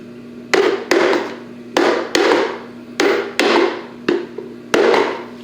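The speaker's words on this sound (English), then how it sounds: "I just prefer to use this and just tap it so that it all moves down" Eight sharp taps at uneven intervals as a part is driven down over a nut while assembling a Lil Rider wiggle car, each strike close and crisp with a brief ringing decay over a low steady hum.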